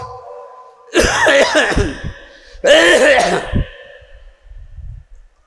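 Two loud bursts of a man coughing and clearing his throat at an Islamic sermon gathering in Chunati, Chattogram, a pause between them, then quieter rustling.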